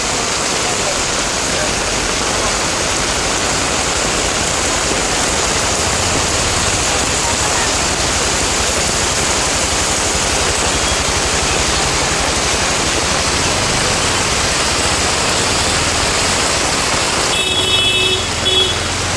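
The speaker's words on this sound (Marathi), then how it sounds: "एवढा जोरात आलाय बघा पाऊस" Torrential monsoon rain and rushing floodwater over a submerged road in Nalasopara, Mumbai, a continuous loud, dense wash of water noise from start to finish, with a faint brief tonal sound near the end.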